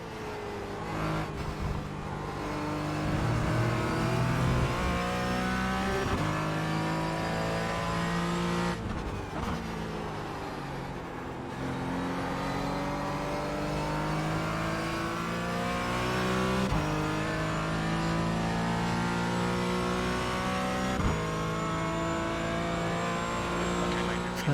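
A race car engine in iRacing revs and drones continuously with shifting pitch through gear changes, loud and close throughout, with a brief dip and a fresh climb midway.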